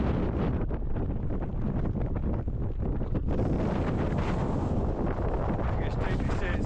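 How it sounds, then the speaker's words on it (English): Strong, steady wind on a cold, icy Scottish mountain summit roars and buffets the microphone continuously, a dense low rumble with gusty surges throughout. "Very cold, very windy."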